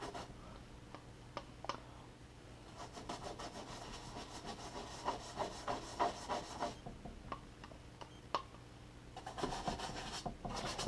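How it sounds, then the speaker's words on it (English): Bristly scrubbing of grout in a bearded dragon's cage, a steady run of close, rough back-and-forth rubbing strokes with sharper scrapes, some quiet pauses between bursts. "you just give it a good scrub"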